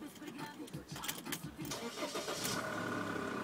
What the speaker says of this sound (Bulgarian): Ай, пали колата, запали колата.